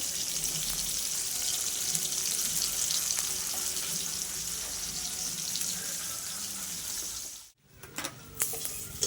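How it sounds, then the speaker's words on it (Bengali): Fish frying in hot oil in a pan: a continuous hissing sizzle carries for most of the clip, then cuts out abruptly before a few quieter clattering knocks. "আর এদিকে তো দেখো আমার মাছ ভাজা হচ্ছে"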